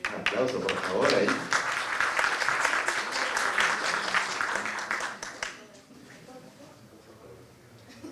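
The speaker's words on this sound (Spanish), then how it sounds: "Un aplauso, por favor, ahí." An audience applauds at a university lecture event as a winner is announced, a dense wash of clapping that swells for about five seconds, with voices talking over it, then drops away to quieter murmuring and room noise.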